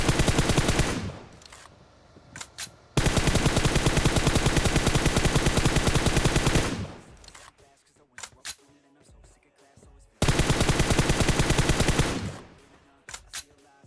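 PUBG Mobile gunfire comes in three long, loud automatic bursts, with brief single shots and quieter gaps between them.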